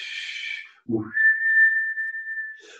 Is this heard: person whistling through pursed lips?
yes